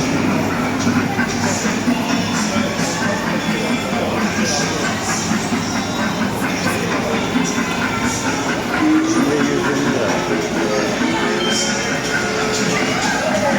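Steady rumbling clatter of a toy train running continuously, with rhythmic clicking and a voice faintly chattering over it.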